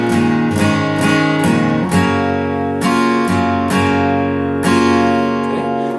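Strummed acoustic guitar chords change every beat or two in a steady rhythm, sounding close and full with no voices.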